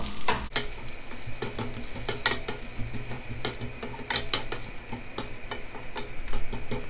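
Thinly sliced eggplant fries in olive oil with a continuous close sizzle, broken by frequent scraping and clacking of a utensil stirring the pan.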